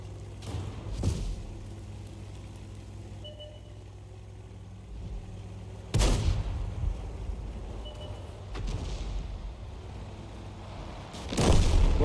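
A tank gun fires in a tank video game, with three heavy booms spaced several seconds apart over a constant low engine hum.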